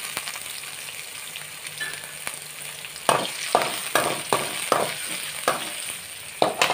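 Three green chillies drop into hot oil with onions for shavige uppitu, giving a faint steady sizzle and then a string of sharp crackling bursts and spatters close by.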